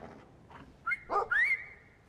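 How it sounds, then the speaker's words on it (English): A dog and a small child attempting to whistle in the video game Brothers: A Tale of Two Sons; short breathy tonal chirps and a wavering whistle-like squeak rise briefly, close and moderately loud over a quiet background. "I like how the little kid doesn't know how to whistle"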